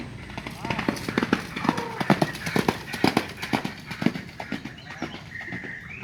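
Racehorse galloping during training on the Sumedang racetrack, a rapid, rhythmic run of hoofbeats at moderate distance with someone talking over it.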